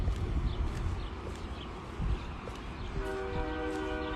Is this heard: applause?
no